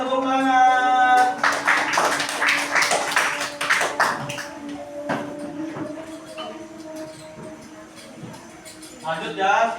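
A classroom of students claps hands together in a burst of applause after a teacher's prompt, dense and loud at first, then thinning into scattered claps before fading, with voices chattering around it.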